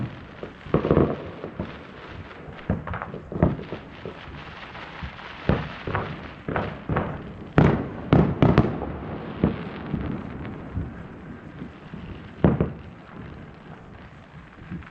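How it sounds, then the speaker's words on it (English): Fourth of July fireworks burst repeatedly at a distance over Boise, irregular pops and booms scattered throughout, some clustered in quick succession, over a steady background hiss. "We're just watching fireworks around"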